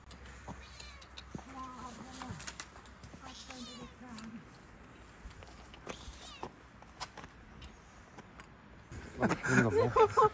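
A cat meows repeatedly, in several drawn-out calls spread across the clip, near and fairly clear, while a person speaks to it on a walk along the Portuguese Camino near Santiago.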